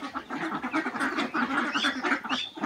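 Domestic ducks on a home farm quack continuously, a busy overlapping chorus of nasal calls close by, with no clear talk.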